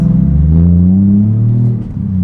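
A Toyota Chaser's 450 hp 1JZ straight-six engine idles with a deep, steady rumble, then briefly dips before settling back into a smooth low drone.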